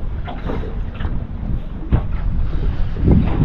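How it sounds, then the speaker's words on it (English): Strong wind buffets the microphone in low rumbling gusts, loud and steady, with no voices. "It's getting a bit windy, so we'll get out of here."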